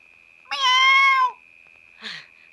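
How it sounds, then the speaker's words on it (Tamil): A cat gives one loud, drawn-out meow close by, followed a moment later by a shorter, softer sound, over a faint steady hum. "பூனை."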